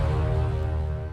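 Cinematic horns for a DJ intro play alone as one loud, sustained brassy chord with a strong low end, held steady for just over a second.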